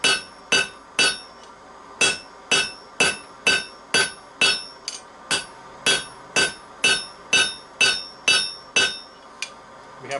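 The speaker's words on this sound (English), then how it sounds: "That's why we're using a straight peen hammer." A straight peen hammer forges a small piece of 5160 steel into a utility knife blade: about twenty sharp, ringing blows in a steady, even rhythm, loud and close, with no talking.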